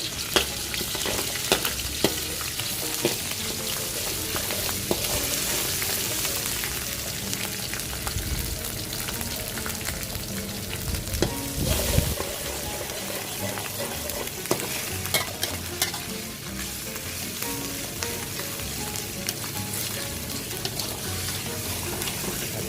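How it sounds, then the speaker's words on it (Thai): Red curry paste stir-fried in hot oil for a spicy sea catfish stir-fry, crackling in a steady, close sizzle with scraping stirs and a brief louder burst midway, no talking. "เราก็ใส่พริกแกงเผ็ดลงไปครับผม หลังจากนั้นก็ผัดพริกแกงให้จนหอมนะครับ"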